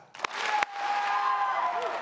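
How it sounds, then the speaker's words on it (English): Audience at a high school graduation ceremony claps briefly for a valedictorian called to the stage, two sharp claps followed by sustained crowd noise and cheering in a large hall. "2 claps for Gustavo Barraza."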